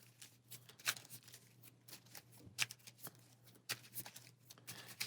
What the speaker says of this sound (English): We'll give our deck a final shuffle here.